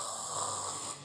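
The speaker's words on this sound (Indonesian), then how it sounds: "kita kumur, kita dangakin sampai seperti orang ngorok" Water gargled in the throat with the head tilted back, giving a steady rattling, snore-like gurgle that lasts about a second at moderate loudness and then cuts off.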